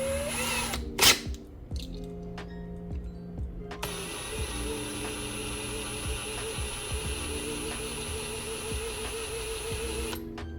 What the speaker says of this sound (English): Mainline rivets are not this difficult to drill out.